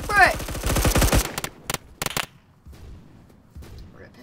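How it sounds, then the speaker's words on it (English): Gunfire in the Roblox video game: a rapid automatic burst rattles out first, followed by a few separate, sharp single shots and then quiet. "Oh wait, they're shooting at the ground, huh?"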